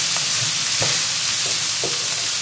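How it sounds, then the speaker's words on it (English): Onions sizzle steadily in a hot pan over high heat for a curry, with a few soft scrapes as they are stirred around, close and continuous with no talking. "So just keep moving the onions around the pan just to check that nothing's burning"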